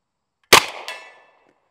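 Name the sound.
M1 Thompson submachine gun shots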